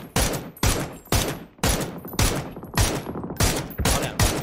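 Loud, close bursts of automatic gunfire in a shooter video game, about eight rapid volleys separated by short pauses.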